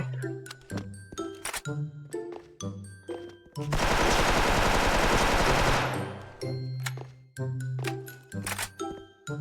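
A sustained roar of rapid automatic fire from an X-MAS edition M4A1-S carbine in the online shooter Special Force, loud and continuous for about two seconds, framed by light clicks and chiming menu tones.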